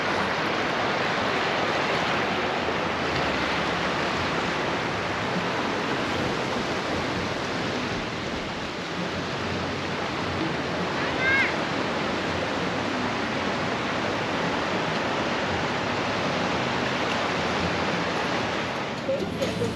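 Waves wash onto a Costa Rica beach with black lava sand, a steady, full roar of surf that stays broad and unbroken throughout, with no voices.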